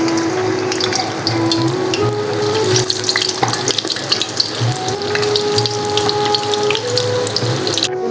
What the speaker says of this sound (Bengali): দিয়ে এখন আমি তেলের মধ্যে আস্তে আস্তে ছেড়ে দেব।